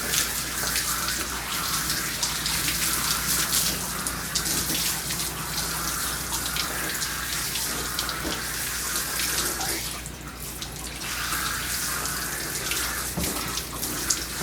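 Shower nozzle spraying water to rinse shampoo out of a Pitbull's coat, a steady close hiss of running water throughout with small shifts as the spray moves, no talk.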